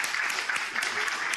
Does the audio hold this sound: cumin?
no